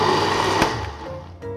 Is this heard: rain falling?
no